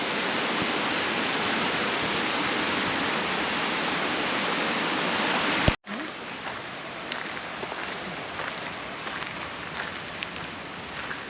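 A raging river rushes in a steady, loud broadband roar that cuts off abruptly midway, then carries on at a lower, more distant-sounding level.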